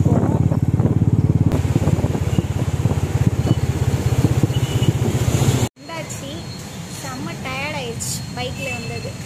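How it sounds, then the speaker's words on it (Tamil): Steady engine drone of a motorcycle being ridden along a hot city street in Chennai, loud and continuous, with a voice talking over it, then a brief cut to quieter road noise with more speech. "நாங்க அப்படியே பைக்ல போய்கிட்டே இருக்கோம்."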